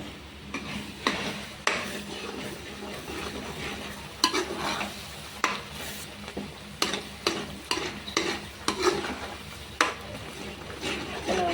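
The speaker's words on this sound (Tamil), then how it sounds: "சர்க்கரை பவுடரில் நான் இந்த பால் போட்டு கலந்துக்கிறேன்" Milk is stirred into powdered sugar with cardamom, making a series of scraping, swishing strokes against the vessel at an uneven rhythm, close and moderately loud.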